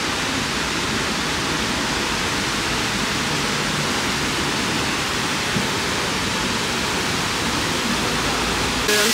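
Waterfall in Seoul, Korea, a steady, loud broadband rush of falling water filling the whole span without a break.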